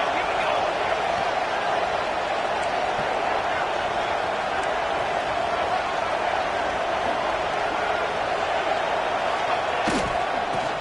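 Large stadium crowd roaring steadily at a football game, the defense down in the red zone; a dense, continuous wall of cheering and noise throughout, with a brief sharper burst near the end.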